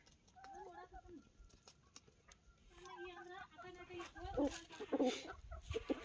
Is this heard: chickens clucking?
yes